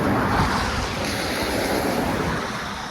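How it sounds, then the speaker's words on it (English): Steady roaring rush of road noise from passing traffic, with wind and heavy rain, close and loud with no break for the full length. "Sorry about the road noise there."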